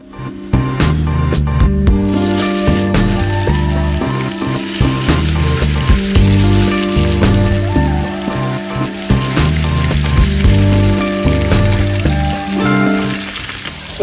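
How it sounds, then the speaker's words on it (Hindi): Fish fries in hot oil in a home kitchen in Kuwait, a loud continuous sizzle and crackle with occasional clinks of a utensil against the pan throughout. "अपनी मच्छी अब तेल में हो रही है फ्राई"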